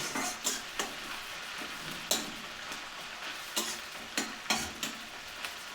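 Potatoes and onions fry, sizzling and hissing in a pan while a spoon scrapes and taps against it in irregular strokes; no one speaks.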